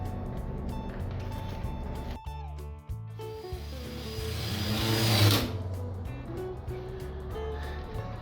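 A power drill whirs steadily while a screw tip is worked around an existing screw hole to widen it into a rough countersink during a pop-up camper floor build. The whine surges louder midway, then settles back.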